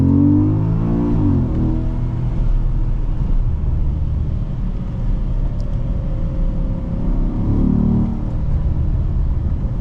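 A 2013 Porsche Panamera GTS V8 revs loudly and steadily up close, its deep rumbling engine note rising and falling across the whole stretch with no talking.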